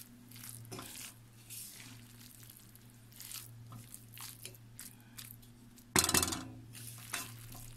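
Chilli garlic Hakka noodles tossed with fresh coriander in a pan produce soft, intermittent scraping and stirring sounds, quiet and close, with one sharper clatter of utensil against pan toward the end.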